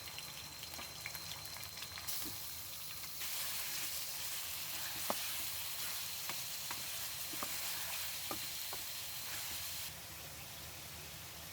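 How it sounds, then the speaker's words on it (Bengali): Chicken meat frying in oil for biryani, making a quiet, continuous sizzle and hiss with scattered faint pops and light clinks throughout, fairly distant. "মাংসগুলো একটু তেলে ভালো করে আমি কষাই ফেলবো।"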